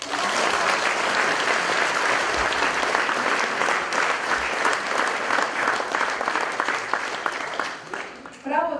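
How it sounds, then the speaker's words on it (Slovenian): A large audience at a live charity concert applauds in sustained, dense clapping for several seconds before it thins out and fades, heard close and loud with no talking over it. "prosim en velik aplavz"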